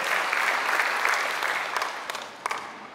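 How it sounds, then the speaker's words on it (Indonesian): Applause from a church congregation at a Sunday worship service, a steady dense patter of many hands at moderate distance, thinning slightly toward the end with a few sharper claps standing out. "Kembali tepuk tangan bagi Dia."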